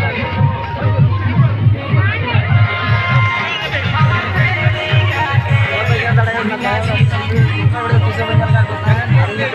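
Large outdoor crowd gathered at Khuripahari, a steady loud hubbub of many voices with rhythmic thumping beneath, continuous and close throughout.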